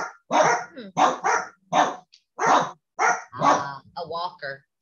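A dog barks at a passing walker in a quiet home, giving about ten loud, close barks in an uneven series, with a few higher yips near the end.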